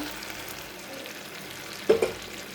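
Spices fry with cashews in a pan for a prawn malai curry, giving a quiet, steady sizzle with a brief stirring scrape near the end.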